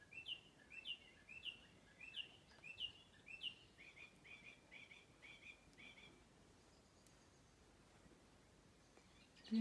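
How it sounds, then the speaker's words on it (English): Birds chirp and sing outdoors in a short run of repeated bright calls, then the song trails off to quiet background. "Beautiful choir out here, the birds."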